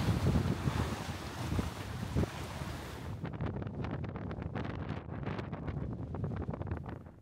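Strong wind buffets across a wide lake along a lakeside boardwalk, churning the water into waves; a loud, steady roar of gusting wind and rushing water fills the scene, with no voices.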